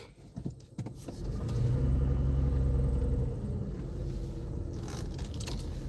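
Car interior as the engine starts and the vehicle pulls away, a few clicks and knocks at first, then a steady low engine rumble that swells and settles into a constant drone.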